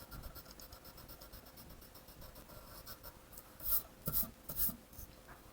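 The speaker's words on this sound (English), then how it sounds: "So I'll erase where the legs and the body meet." A rubber eraser rubbing over a pencil drawing on paper, continuous soft scratchy friction up close, ending in a few louder, firmer back-and-forth scrubs, with no voices.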